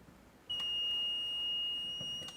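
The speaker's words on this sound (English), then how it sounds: "but you could hear it beep" A non-contact voltage tester gives a steady high-pitched electronic beep. It starts sharply and holds for about two seconds, near and clear, with no talk.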